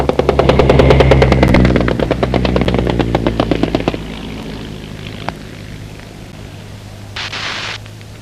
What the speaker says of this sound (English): Here is the sound of a Spad of 1916.